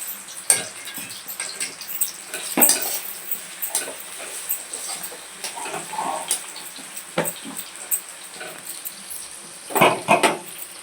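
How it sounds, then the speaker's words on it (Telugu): Onions frying in a kadai pan, with a soft sizzle beneath repeated metallic scrapes and clinks of a spoon stirring against the pan, a few sharper knocks standing out. "అదే బాండిలో కొన్ని ఉల్లిగడ్డలు వేసుకుంటున్నాం"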